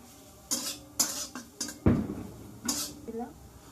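Cauliflower batter with cornflour being whisked in a bowl, a handful of separate clinking utensil strikes against the bowl with a louder scrape near the middle, fairly close, with faint background noise between strokes.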